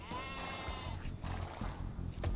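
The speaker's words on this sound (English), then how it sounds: "Oh, there's the sheep." A sheep in a strategy video game gives a single wavering, nasal bleat, clear and close over a soft game background.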